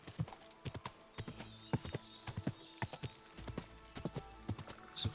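Horse hooves clip-clop in Kingdom Come Deliverance 2, sharp irregular thuds at a walking pace over ground, fairly faint, with soft ambient background.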